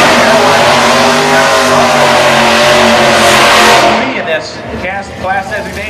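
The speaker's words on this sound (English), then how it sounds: "So the first run will be single, the Roy Hills Drag Racing School car of Craig Hankinson." A supercharged 331 cubic inch, 5.4 liter dual overhead cam drag racing school car makes a single run, its engine roaring loud and steady before fading away, while an announcer talks over it.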